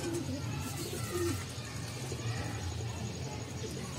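Pigeons coo in low, soft repeated phrases close by, mixed with faint bird calls under a steady background murmur, with a hint of voices nearby.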